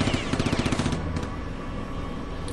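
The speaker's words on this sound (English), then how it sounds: "I'm just going to shoot a few more times because I'm annoyed." Rapid automatic weapon fire from the video game Perpetuum, a quick, even string of shots in the first second, then fading into a sustained low rumble and hum of the game's sound effects.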